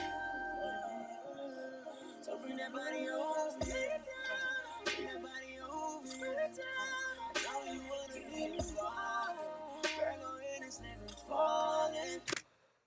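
A chopped music sample from a song, taken from the end of the track, plays quietly with layered tonal parts and scattered percussive hits. The sound is dark and ambient and runs for about thirteen seconds before it stops abruptly.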